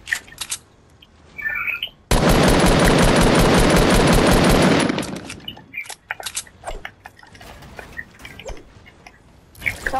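Automatic gunfire in the Fortnite battle royale game, a loud sustained burst of rapid shots lasting about three seconds, with sparse scattered pops and small in-game sounds before and after.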